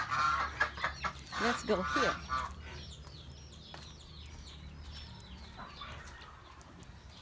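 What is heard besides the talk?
chicken clucking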